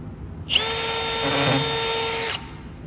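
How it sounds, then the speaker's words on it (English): A power drill pre-drills a hole through a wooden keepsake box, a single steady high whine lasting about two seconds, close and loud with a sharp start and abrupt stop. "Pre-drill the hole through."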